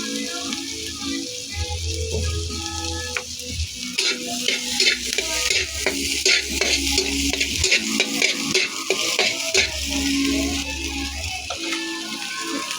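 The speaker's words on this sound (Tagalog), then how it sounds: "unang-una lahat ginagawa muna to ng nagluluto ang magsangkot siya ng bawang at sibuyas" Garlic and onion sauté in a pan as the first step of Filipino bopis. A busy sizzle runs throughout, with rapid clattering and scraping strokes of a spatula stirring close by.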